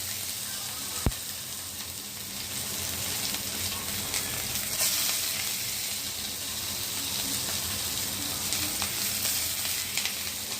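Ingredients for dalia khichdi, including curry leaves, roast in a hot frying pan, giving a steady close sizzle and hiss throughout with one sharp tap near the start and no talking.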